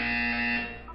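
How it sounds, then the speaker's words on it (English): A harsh, steady electronic buzzer from the video game Portal 2 sounds alone, loud and close, holding one continuous tone for about a second before tapering slightly at the end. "When you hear the buzzer, look up at the ceiling."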